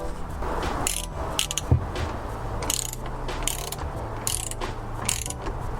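A 12 mm socket ratchet working bolts during a Honda GX240 engine rebuild: close, repeated bursts of sharp metallic clicking come in quick strokes with short pauses between them, over a low background hum.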